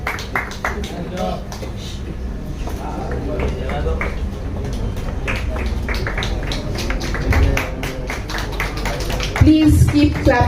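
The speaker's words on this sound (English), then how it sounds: "A big round of applause for these real life heroes." Audience applause for cancer survivors on stage at an inauguration event, a steady spread of clapping under a loud voice speaking over a PA, swelling louder near the end.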